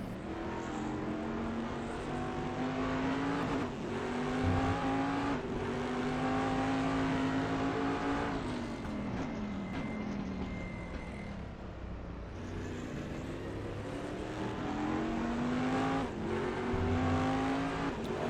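Daytona Prototype race cars in a sim racing game howl through repeated revving engine sweeps, rising and falling as they accelerate and shift, with overlapping passes from several cars.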